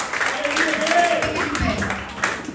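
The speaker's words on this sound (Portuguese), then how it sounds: "Aplauda o Senhor nesta noite" A church congregation claps during an evening worship service, with scattered, irregular hand claps mixed under voices and ambient noise in a reverberant hall.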